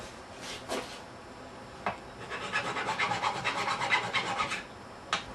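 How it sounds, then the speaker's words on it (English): A metal file rasps across the backs of a Fiat Ducato seat swivel base, a few single strokes followed by a quick run of rhythmic back-and-forth filing, close and fairly clear. "We'll just give the backs a bit of a file off now."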